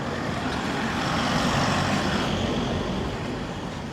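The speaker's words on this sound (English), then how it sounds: "The cars and the delivery drivers. Scooters and everything." Steady, dense street traffic of cars, delivery drivers and scooters moving along a marina-side road in Marmaris, a continuous close rumble of engines with no talk.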